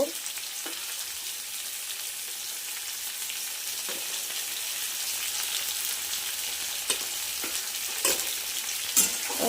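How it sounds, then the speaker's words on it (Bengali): Pointed gourd and potatoes fry in oil in a pan, giving a continuous sizzle broken by occasional scraping stirs, close and steady without voices. "ভালো করে ভাজতে লাগবো।"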